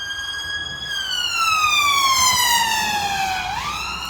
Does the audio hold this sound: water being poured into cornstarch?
no